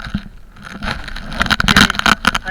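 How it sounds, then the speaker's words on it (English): Water sloshes and splashes close by as a small boat is paddled, with irregular strokes and knocks that grow busier toward the end. "I go paddle my boat."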